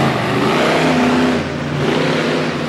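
Monster truck engines rev and roar at a 2017 competition in Brookville, Pennsylvania, a loud, dense, continuous mechanical drone with slight swells in pitch, heard close and alone.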